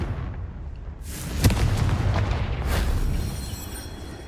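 In the Hogwarts Legacy video game, a Confringo fire spell goes off as a few booming blasts, one sharp crack among them, each trailing into a rumbling, crackling roar.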